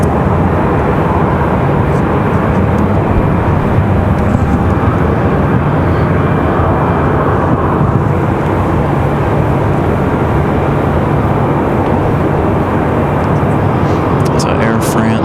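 United airliner taxiing at Raleigh-Durham International Airport, a loud steady jet engine roar that holds continuously throughout, with no clear change in pitch.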